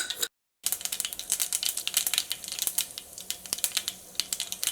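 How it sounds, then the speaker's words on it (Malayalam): Rapid irregular crackles and pops of mustard seeds bursting in hot oil snap continuously at close range after a brief silence. "അപ്പോൾ കടുക് പൊട്ടിയിട്ടുണ്ട്"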